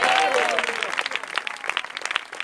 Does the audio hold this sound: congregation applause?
yes